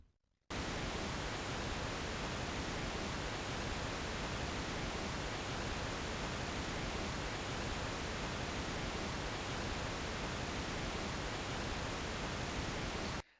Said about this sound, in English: That was the pink noise signal.